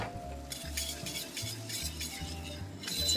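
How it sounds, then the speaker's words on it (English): Eggs whisked quickly in a bowl make a rapid, rhythmic clicking and swishing, close and fairly steady for a few seconds, over a low background hum. "we just whiz our eggs very quickly"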